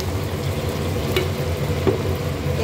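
Warm water meets a pan of sautéed figs, setting off a steady, even sizzle and bubbling that stays close and constant throughout.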